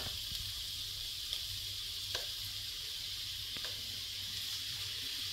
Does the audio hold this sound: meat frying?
yes